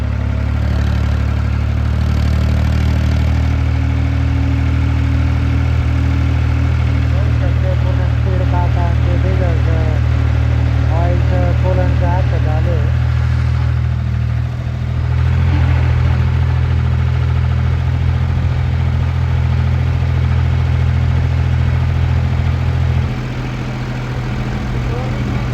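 An International tractor engine runs close and loud, a steady low diesel drone that holds for the whole stretch with only slight shifts in pitch, joined by some brief chirping sounds in the middle.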